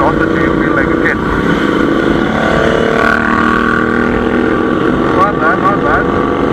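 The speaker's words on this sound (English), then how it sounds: "All three bikes are pretty loud now." Royal Enfield Interceptor 650 motorcycles with aftermarket exhausts rumble loudly nearby, a continuous throbbing engine note with a rising rev partway through, while a voice talks over it.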